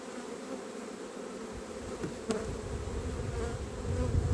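A steady, dense buzzing of many honeybees close by at a hive, droning continuously and swelling slightly louder toward the end, with no talking.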